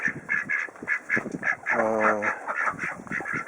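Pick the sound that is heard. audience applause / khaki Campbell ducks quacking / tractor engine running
khaki Campbell ducks quacking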